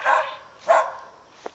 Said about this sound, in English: That means the dog is hungry.